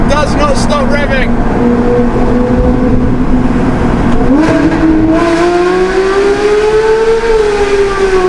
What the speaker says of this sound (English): It does not stop revving.